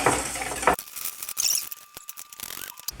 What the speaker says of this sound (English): and then I'm just gonna whisk.